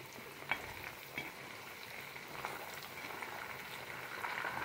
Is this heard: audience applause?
no